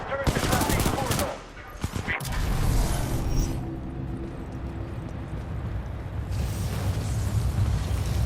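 Automated turret in Titanfall 2 opens fire in loud rapid bursts, close and harsh, with a break before a long rattling stream continues over game ambience.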